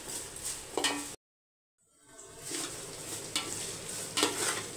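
Onions sauté in a pan with a low sizzle and several clanking stirs, cut by a sudden second of silence before the frying sound returns.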